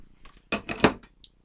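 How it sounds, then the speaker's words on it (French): Foundation makeup brushes are put away with a few quick clattering knocks against a hard container, a short burst of close rattles followed by a faint tick. "je range les pinceaux fond de teint"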